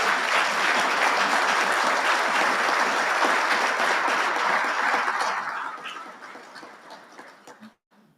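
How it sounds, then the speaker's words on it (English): Audience applause at a military acquisition awards dinner rolls as a dense, loud wash of many hands clapping, holding steady for about five seconds before tapering off and dying away. "Please join me in a round of applause for the family and friends."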